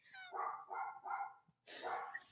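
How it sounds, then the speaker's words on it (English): A dog barks four times close by, three quick woofs in a row and then a louder one after a short pause, in an otherwise quiet room. "I think my family went to lunch without me and left me the dog barking."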